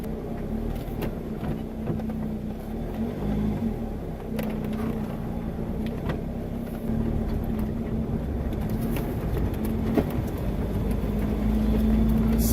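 A BMW i8 pulls away with a steady, low engine and road drone that builds gradually, close and continuous with a faint rise in level toward the end.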